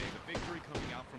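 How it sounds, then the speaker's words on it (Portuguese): Two sharp bursts of gunfire in the Apex Legends video game crack out about half a second apart, under a commentator's talk. "O robô tá tomando muito tiro, a Watson também."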